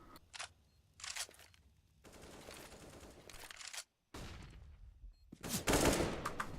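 Gunfire in a competitive online shooter match, including a headshot: several sharp bursts of shots separated by brief gaps, with a louder, denser volley at the end.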